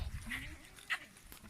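A herd of about fifty large goats bleating at a livestock gathering, a couple of short calls standing out close by over low background rumble.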